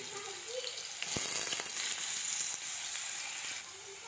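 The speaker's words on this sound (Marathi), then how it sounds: "बटाटा आपला छान असा शिजेपर्यंत तेलात परतून घ्यायचा।" Raw potato slices frying in oil for sabudana khichdi, a soft, steady sizzle that swells briefly as the pieces are turned, with a faint voice in the background.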